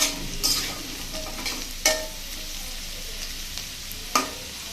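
Yam pieces and bottle gourd stems sizzle and fry in a pan, a steady soft crackle broken by a few louder scraping stirs, close and fairly quiet.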